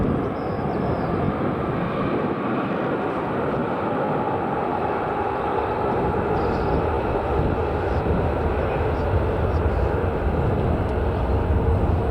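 At Manchester Airport an airliner turns at the far end of the runway, its jet engines a steady, broad roar that holds at even loudness without letup, heard from a distance.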